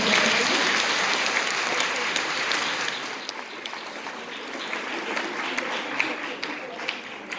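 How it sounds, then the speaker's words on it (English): Sustained applause from an audience at a school Shakespeare competition, honouring volunteers; dense steady clapping fills the whole stretch, slowly easing in level, with faint voices underneath. "So can we have a round of applause for them?"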